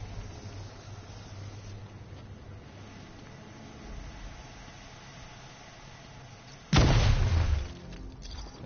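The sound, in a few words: explosion in the video game Batman: Arkham Knight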